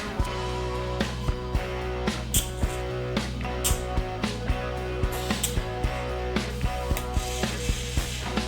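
A ratchet clicks rapidly and steadily as bolts are tightened to mount a part on a twin turbo TD42 Nissan Patrol, close up over a constant mechanical hum.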